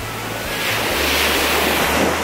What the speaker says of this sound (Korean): 파도가 잡아먹은 듯이 찾아오네